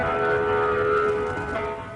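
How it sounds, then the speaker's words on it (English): EOWS 1212 civil defense warning siren being tested at the Fernald plant, a steady loud wailing tone that holds, then dips slightly in pitch near the end. "It came from a newly installed siren at the Fernald plant, designed as an early warning system for nearby residents."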